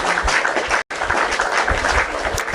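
Applause sound effect triggered during a TikTok live stream, a steady broadband wash of clapping filling the whole clip, briefly cutting out for a moment before resuming at the same level.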